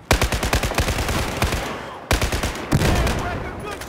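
Rapid automatic gunfire in a Battlefield 4 campaign firefight, loud and close, with two sustained bursts of quick, evenly spaced shots and a short pause between them.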